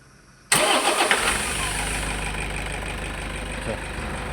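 A Toyota Hilux Vigo engine with a hard-starting problem cranks and catches abruptly, then settles into a steady, loud, close idle with no talking.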